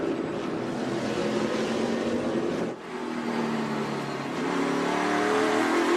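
NASCAR Nationwide Series race cars roar around the Mid-Ohio road course, a steady, loud engine drone that dips briefly as a car lifts off the throttle, then swells again under acceleration.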